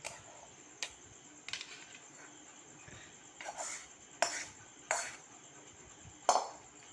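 Quiet clinks and light knocks sound as fried rohu fish fingers are tipped from a pan onto a plate, a few sparse, close taps with no talk.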